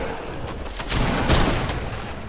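Revolver gunshots in a video game: a dense, fairly loud stretch of noisy gunfire that swells toward the middle, with no one talking over it.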